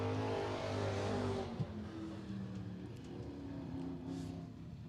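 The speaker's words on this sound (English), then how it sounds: "Ed Rolls going to keep that car down in the gutter through turns 1 and 2, trying to get a hold of that tack line" A race car circling the oval at Willamette Speedway, its engine droning loud and steady, then easing in pitch as it moves off, with a brief sharp knock partway through.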